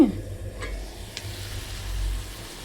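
Onions sautéing in a pan for chicken curry give a soft, low sizzle, with a couple of faint clicks from stirring, close by and quiet.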